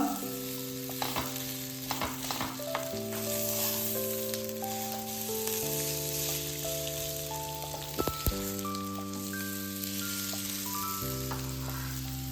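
A sandwich bun or cutlet sizzles and fries steadily in a pan, a continuous close crackle running throughout with soft stirring sounds, while light background music plays along.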